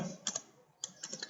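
Code is typed on a computer keyboard in two short bursts of quick, close key clicks separated by a brief pause, quiet and crisp.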